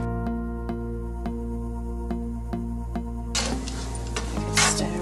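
Onion softening in hot oil in a pan, with a steady sizzle and regular light scrapes as it is stirred, the frying getting louder and busier toward the end.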